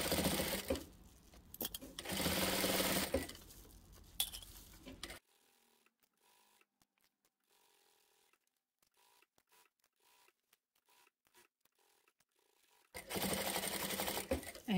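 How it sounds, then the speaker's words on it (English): A sewing machine double-stitches a reversible oven mitt along the pocket rise, running in two loud sustained bursts of rapid needle clatter, pausing silent in between with only faint clicks, then starting up again near the end. "I like to double stitch from there."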